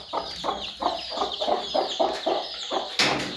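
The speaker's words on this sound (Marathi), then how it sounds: "या ठिकाणी अंड्या देण्यासाठी कोंबड्या बसलेले आहेत" Hens sitting on eggs give a run of rhythmic, close clucks in roughly half-second pulses, ending with a sharper squawk, with no voices.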